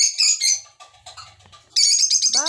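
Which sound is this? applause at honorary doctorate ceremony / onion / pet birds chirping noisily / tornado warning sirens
pet birds chirping noisily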